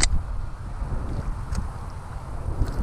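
Wind blowing outdoors while fishing on an overcast day, a steady broadband rush buffeting the microphone with a few gusty bumps, continuous and fairly loud, with no talk.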